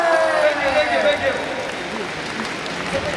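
Audience applauding at a charity concert in Brampton, a steady wash of clapping and crowd noise lasting the whole moment, fairly loud and continuous, with voices mixed in.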